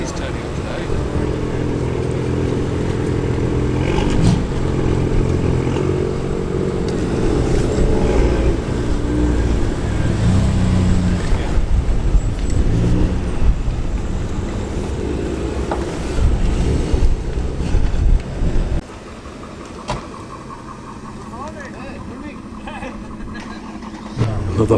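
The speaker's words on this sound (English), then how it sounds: "Another Porsche 928, this one a much later example. And again, lovely burbly V8." Later-model Porsche 928 with its V8 burbling steadily at a classic car gathering, a low rumble running throughout under wind buffeting and nearby talk, then dropping to a quieter idle near the end.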